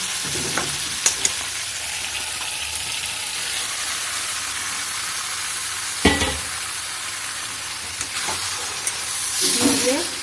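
Spice paste for a flat bean and mung dal dish fries steadily in oil with a close, continuous hiss and sizzle, broken by a few sharp scrapes and clicks as it is stirred in the pan.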